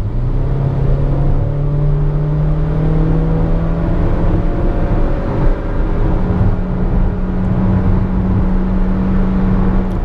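Nissan March SL 2016 with a CVT accelerating from 80 km/h, recorded inside the cabin as a loud steady engine drone with smoothly rising pitch and heavy road rumble, no talking.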